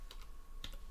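A few quick computer keyboard keystrokes in short bursts, fairly faint and close, with no voices, as code is typed into a Blender Python script.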